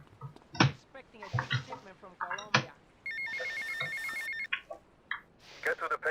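Payphone ringing in the video game GTA Vice City, a steady electronic bell tone held for about a second and a half mid-clip, with talk and game sounds around it.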